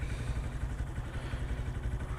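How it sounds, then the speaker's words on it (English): A used 2014 Honda Grom motorcycle is ridden with a faint, steady, low engine putter and a slight clattering rhythm, with no voices. "Riding my Honda Grom"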